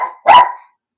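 A single loud dog bark, close by, with a short lead-in bark, at an ashram where dogs react to people outside.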